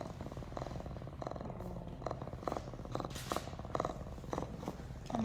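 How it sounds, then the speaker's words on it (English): A young mountain lion cub purrs steadily during a wellness exam, a soft close rumbling with rhythmic pulses, faint and continuous throughout. "actually vocalizing and kind of purring right now."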